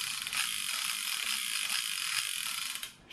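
Cylinder of a Colt SAA-style revolver clicking as it spins, a rapid steady ratchet-and-pawl ticking held close and loud for about three seconds before stopping.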